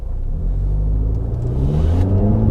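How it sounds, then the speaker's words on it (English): An Audi TT Mk2 accelerates smoothly under steady throttle, its engine rising in a continuous, even rumble with rising pitch and no breaks or shift interruptions, close and loud throughout. "if you get on the gas now, it should do it smoothly"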